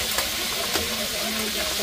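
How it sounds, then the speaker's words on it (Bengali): Squid sizzling in hot oil at a seafood fish fry stall in Kuakata, a steady close hiss and crackle with faint voices in the background. "স্কুইড দেওয়া হয়েছে, স্কুইড ফ্রাই করা হচ্ছে।"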